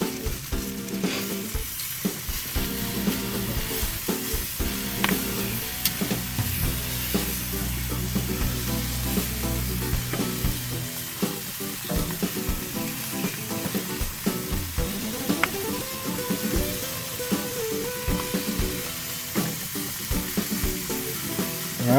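Sausages and sweet peppers sizzle steadily on a grill at about 300 degrees, a dense close crackle and hiss with scattered pops and a low hum underneath, no voices.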